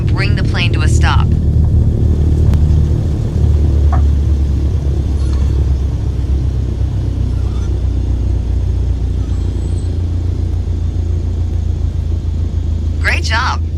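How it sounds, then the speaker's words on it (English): A Cessna 152 rolls out after landing and brakes to a stop in the MSFS2020 flight simulator, giving a steady low engine and rolling rumble with brief talk at the start and end. "Now apply the brakes to slow us down and bring the plane to a stop."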